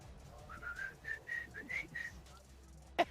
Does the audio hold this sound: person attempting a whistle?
yes